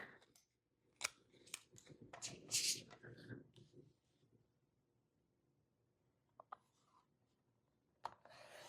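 Paper is trimmed down to an 8.5 or 11-inch length for lunchbox pun cards, with a quick cluster of crisp cutting and sliding strokes up close, then quiet and a few isolated clicks.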